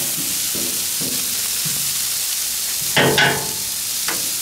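Brussels sprouts cook on a flat top griddle with a steady, loud sizzle and hiss, a few soft scraping touches, and a brief louder spitting burst near the end.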